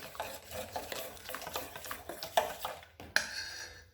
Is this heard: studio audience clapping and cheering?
no